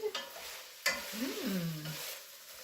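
Greek green beans stewing on low heat in a pan, a soft steady sizzle and simmer with a couple of sharp stirring knocks, quiet and close with no voices.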